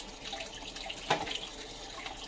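Water runs from a kitchen tap while dishes are washed by hand, a soft steady hiss with a brief louder splash midway, fairly quiet and close.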